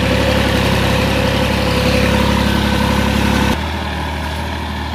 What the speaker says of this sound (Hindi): ये टर्बो है, टर्बो चार्ज इंजन है।